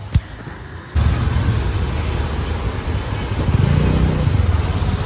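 A car pulls into a mall parking area in Panvel. After a quiet first second, a steady, close rumble of engine and road noise with some wind sets in and carries on to the end, with no talking.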